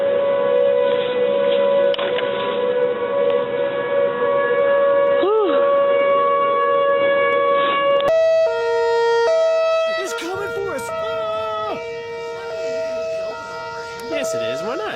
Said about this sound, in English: all of a sudden the sirens are going off